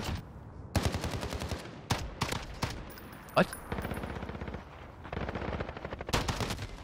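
Bursts of automatic gunfire from a Call of Duty multiplayer match, several rapid rattling volleys spread through the clip with a sharp single report near the middle, a voice briefly exclaiming over the shooting.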